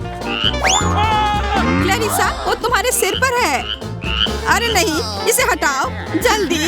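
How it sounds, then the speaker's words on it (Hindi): A slimy frog croaks during an excited indoor scene, its calls mixed under loud, rapid talk and exclamations from several people close by. "यह मेंढक है।"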